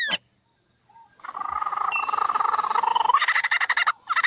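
A lyrebird mimics a kookaburra call, a rising, rapid cackling chatter that builds in a rhythmic pulse and breaks off briefly near the end, heard clearly and alone.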